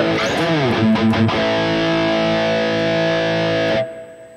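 Electric guitar played through a multi-effects unit with distortion and a darker hall reverb: a few picked notes and bends, then a held chord ringing out loud and clear before cutting off near the end.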